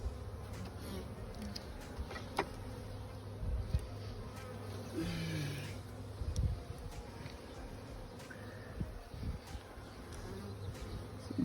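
Honeybees swarm over an open hive during a brood inspection, their soft, continuous buzzing faint in the background with a few light clicks and handling knocks.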